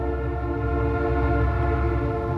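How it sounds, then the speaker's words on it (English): A nearby train whistle blows in one long, steady, loud tone over the low rumble of a passing train, sustained throughout with no speech. "train whistle blowing"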